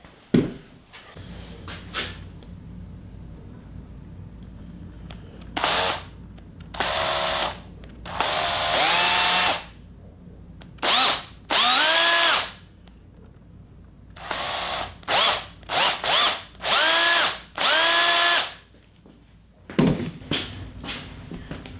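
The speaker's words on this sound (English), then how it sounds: "This is the swedge joint that we made with that 18 volt drill before it let the smoke out." An 18-volt cordless drill whirs in repeated bursts of a few seconds each while spin-swaging a joint, starting and stopping irregularly, with quiet handling noises in between.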